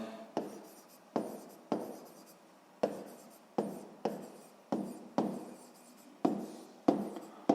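Pen writing by hand on paper during a sixth-grade maths exercise, a series of close, scratchy strokes in quick bursts, each starting sharply and trailing off, with short pauses between and no talking.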